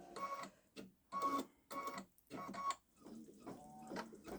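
Baby Lock Solaris embroidery machine stitching in bursts of rapid mechanical chatter, several short runs separated by brief pauses, close and moderately loud with no talking.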